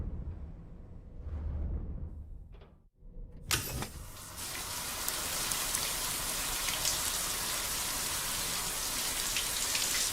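A shower runs in the video game Death Stranding 2, a dense steady patter of water starting abruptly after a few soft clicks and a brief quiet stretch, then holding loud and even to the end.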